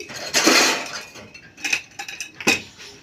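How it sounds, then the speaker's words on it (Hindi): Inside a village home kitchen, a metal lid is set onto a cooking pot of dal, making a loud close clank followed by several lighter metallic clinks and rattles, with no talking. "लीजिए, मैं दाल डालती हूँ और मैं ढक्कन लगा करके रख देती हूँ"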